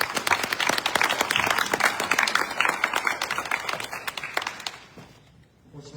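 Audience at a school board candidates forum in Katy gives a round of applause, sustained clapping that stays even for several seconds before tapering off near the end.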